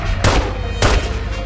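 Two loud shotgun blasts boom out about half a second apart in The Godfather on PC, each a sharp broadband crack with a short decaying tail over a low steady game rumble.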